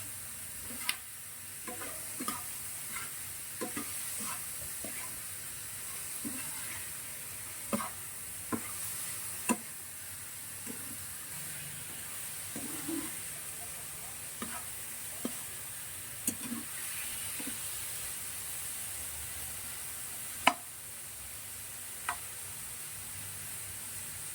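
Snails and string beans cooking in coconut milk are stirred in a pan, with sparse light scrapes and clicks of the utensil over a steady soft simmering hiss, close and quiet throughout.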